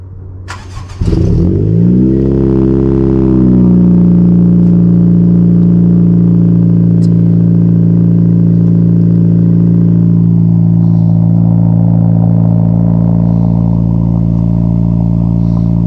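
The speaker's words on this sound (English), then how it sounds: "Let's start this car up, man. Let's listen to it." A 10th-generation Honda Civic Si cold-starts with a brief starter crank, a sharp flare in revs, then a loud, close, steady high idle that settles slightly lower.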